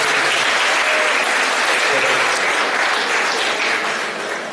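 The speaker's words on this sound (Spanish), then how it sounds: "Le doy un aplauso a la doctora y al doctor que nos están asistiendo" Steady, loud applause from a congregation at a Mass, clapping for the doctors who are assisting, dense and continuous for several seconds and tapering slightly at the end.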